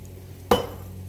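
Glass canning jars being handled while making homemade salsa give a single sharp clink midway, standing alone over a low steady background hum.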